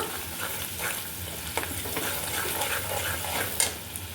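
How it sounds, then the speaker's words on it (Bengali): Sliced onion with salt and turmeric fries in hot oil with a steady close sizzle while a utensil stirs and scrapes the pan in irregular bursts, one sharper clink near the end. "এটাকে একটু তেলের সাথে ভেজে নিব"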